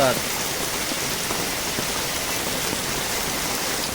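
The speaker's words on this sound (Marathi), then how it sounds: "पहिलोच पाऊस आपल्या कोकणात चालू झाले" Steady first monsoon rain pours down in a Konkan village in Rajapur, Ratnagiri, a dense, even hiss with no break.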